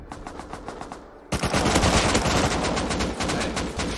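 Rapid automatic turret gunfire in the survival game Rust: a few lighter shots at first, then a loud, sustained burst that keeps rattling steadily close by, with no talking.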